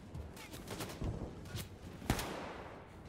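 Gunfire aimed at the player in the video game Wolfenstein II: The New Colossus, several sharp shots cracking over a steady noisy background, the loudest burst near the end, with no speech.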